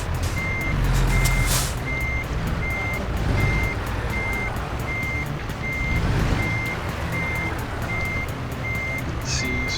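Reversing beeps from a truck in the video game American Truck Simulator, a steady evenly spaced electronic beep over a loud engine rumble, with a soft hiss of air brakes, no talking.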